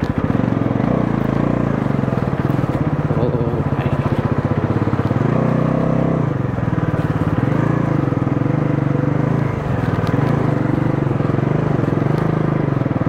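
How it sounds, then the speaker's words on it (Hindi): A Bajaj Pulsar NS 400 motorcycle engine labors steadily climbing a hill in third gear, a loud continuous drone with slight pitch shifts as it climbs. "देखो बाइक जो है थर्ड गियर में चढ़ती है"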